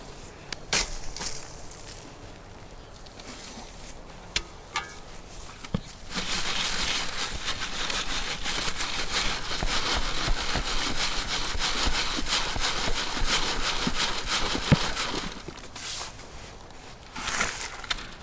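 Garden compost is shaken and rubbed across a quarter-inch mesh screen. A steady, gritty scraping runs close by for most of the stretch, with lighter rustles and knocks before and after.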